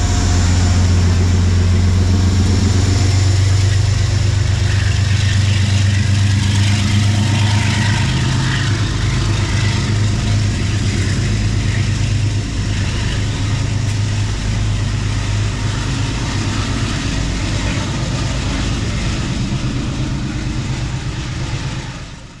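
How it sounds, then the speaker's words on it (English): A Conrail heritage diesel locomotive pushing a 7-car train roars steadily and close for the whole stretch, a deep rumbling drone that swells slightly before easing at the end. "The roar of Conrail Heritage Unit 201 pushing 1889 grows louder and louder as the locomotive comes into frame"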